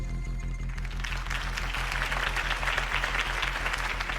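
Crowd applause at a Harvey Dent campaign rally in the Batman Telltale Series game, a dense wash of clapping and cheering that swells in after a second over a low music bed.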